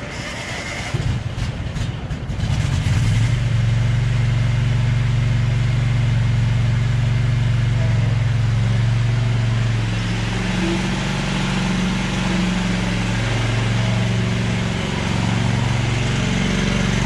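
A White Outdoor LT1650 lawn tractor with an 18HP Tecumseh V-twin engine cranks briefly, then catches and idles steadily with a loud, even rumble close by, running alone without talk.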